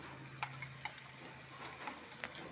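A garlic-onion spice paste being sautéed in a pan for a fish roe kalia, giving a faint, soft sizzle with scattered light taps and clicks of stirring.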